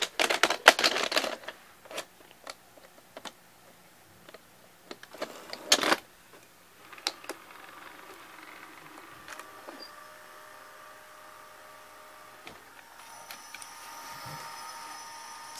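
An RCA VPT395 VCR loads a videotape with a quick series of mechanical clicks and clunks, followed by a steady, quiet motorized whir as the mechanism threads the tape.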